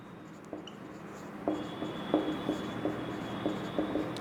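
Pen writing on paper during a physics class, short scratchy strokes and taps in an irregular rhythm, close and fairly quiet in a room with no talking.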